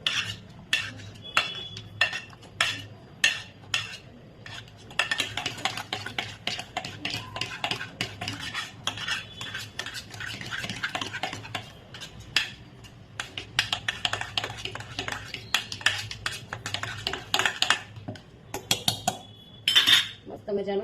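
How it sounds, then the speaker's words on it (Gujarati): Boiled potatoes, cauliflower and capsicum mashed with a hand masher in a pot for green pav bhaji, giving repeated close clinks and soft squelching knocks, irregular and busy throughout. "બાકીનું છે એને હું મિક્સ કરી દઉં છું મેશર વડે"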